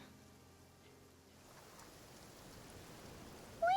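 Light rain falling in the video game Genshin Impact, a quiet, continuous patter that grows a little denser, with a faint tonal sound near the start and a sudden brighter swoop at the end.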